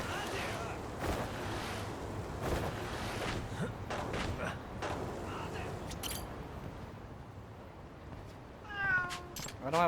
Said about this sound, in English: Check in on my other cats.